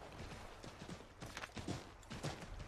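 Horse hooves in Assassin's Creed III clop in a quick, uneven rhythm amid game ambience, fairly faint and close, with no speech.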